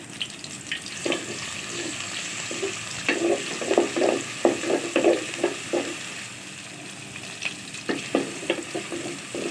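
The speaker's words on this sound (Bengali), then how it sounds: "এবার পেঁয়াজ কুচিগুলো আমি নেড়ে ছেড়ে হালকা করে ভেজে নিব" Chopped onions frying in a pan, a steady close sizzle broken by repeated bursts of stirring and scraping that come in clusters through the clip.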